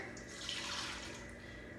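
Warm water runs steadily from a kitchen tap, a continuous close hiss and splash lasting the whole moment without talk.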